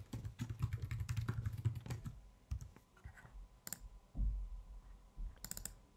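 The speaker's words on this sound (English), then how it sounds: "you need to type in your password again." Quick, close clicking keystrokes on a computer keyboard as a password is typed, first in a rapid burst, then a few scattered taps.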